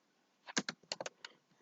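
Several quick keystrokes tapped on a computer keyboard while someone writes HTML form code, the clicks coming in a short uneven burst, close and clear with no talking.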